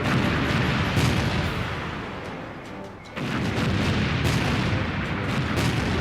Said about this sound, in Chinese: 我们现在看到的烟火和炸点显示，是由空军山鹰旅扮演的蓝军正在对红军实施远程火力打击